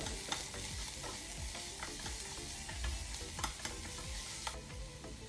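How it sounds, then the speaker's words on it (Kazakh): Onions frying in hot oil for a pirozhki filling, a steady crackling sizzle with repeated scraping stirs of a utensil in the pan, close up and with no talking. "Начинка үшін пиязды қызып тұрған сұйық майға қуырып аламыз."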